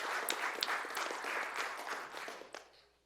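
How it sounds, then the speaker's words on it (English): Brief applause follows a talk at an AI technology event, with a few distinct claps over a light crowd patter that fades away toward the end. "a round of applause for Igor."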